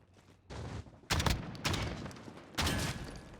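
Rapid bursts of gunfire in a gun-game round of a first-person shooter video game, loud and close, coming in three sharp volleys over a few seconds.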